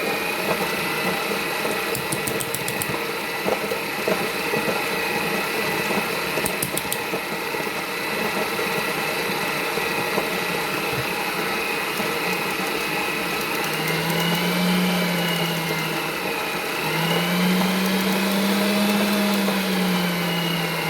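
An electric mixer creaming cookie dough for white chocolate chip cranberry cookies, a continuous whirring, gear-like drone that holds steady throughout with slight shifts in pitch, fairly close and with no talking.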